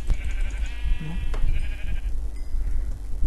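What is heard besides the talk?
sheep bleating in the video game Minecraft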